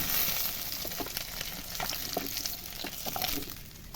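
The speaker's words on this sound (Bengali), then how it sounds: "আমি অল্প অল্প করে ভেজে নিচ্ছি বন্ধুরা এইভাবে আমি সমস্ত মাছগুলো একেবারে ভেজে নেব" Steady crackling sizzle of khoyra fish frying in hot oil, with soft popping and occasional spatters, close and fairly quiet throughout.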